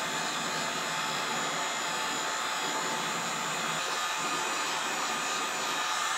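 Heat gun blowing steadily while shrinking polyfill onto a model zombie hand, a loud constant broadband whoosh that holds unbroken throughout with no talk.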